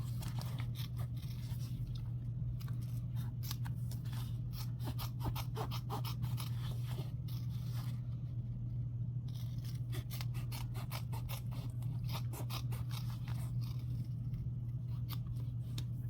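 Rapid, steady snipping of scissors through embroidered cloth close to the stitching goes on continuously, close and fairly quiet over a low background hum, with no one speaking.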